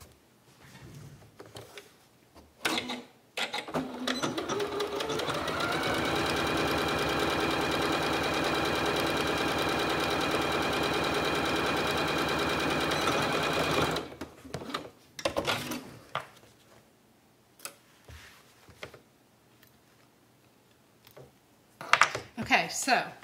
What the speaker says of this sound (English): And then we're just going to sew that on.